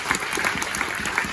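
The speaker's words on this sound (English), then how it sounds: "so give yourselves a round of applause" Audience at a golf charity speaker event gives itself a round of applause, a brief, steady wash of clapping heard close and fairly loud.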